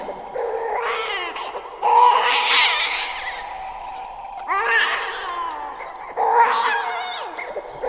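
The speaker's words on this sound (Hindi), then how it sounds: "बच्चे की रोने की आवाज़ शांत हो गई" A baby crying in repeated wailing bursts, used as a sound effect in a horror story, fairly loud and close, with rising and falling whimpering cries separated by short pauses.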